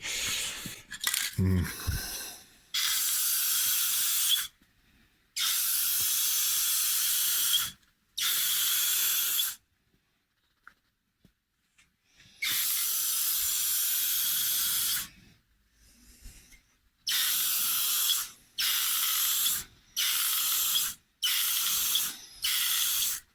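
Spray gun applying a clear coat finish, hissing in repeated steady bursts of a few seconds each with short silent pauses between, close and loud.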